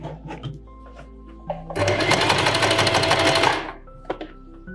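A sewing machine stitches fabric in a long, steady mechanical burst of about two seconds, loud and close, set between softer clicks and handling noises with no talk.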